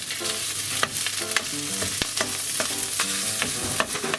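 Char siu pork being broken up and stirred in a frying pan, a continuous close sizzle punctuated by repeated spatula scrapes and knocks against the pan.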